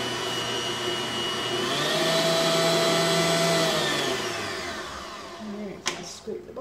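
An electric mixer whirs steadily as it beats milk and vanilla into butter for a drumstick dessert, a constant motor drone that rises and then eases off, with a few clunks near the end.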